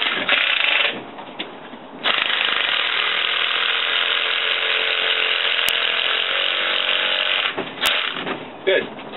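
Power drill driving screws into wooden beams of a fort in the woods, a sustained whirring, ratcheting grind that pauses briefly then runs on for several seconds, close and loud, with a little talk at the edges.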